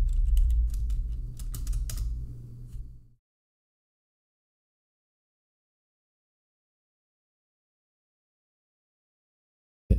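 Quick clicks from a computer keyboard with items resting on it, a short burst of typing over a low hum for about three seconds before the sound cuts to silence.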